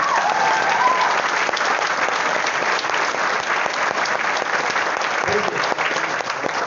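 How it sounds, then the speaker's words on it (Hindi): Sustained applause from a large crowd at a Vestige business seminar, dense and steady clapping throughout at a loud, even level. "तो ताली मेरे लिए तो बजानी पड़ेगी, बजाओ"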